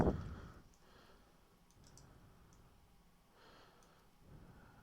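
Computer mouse clicking while working in SolidWorks, a few faint isolated clicks spaced apart in a quiet room, after a brief louder knock at the start.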